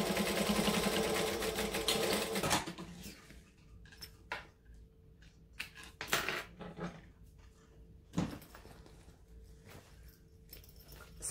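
A sewing machine stitching along the top edge of a fabric clutch runs in a close, steady burst for a couple of seconds, then stops, followed by scattered clicks and handling noises.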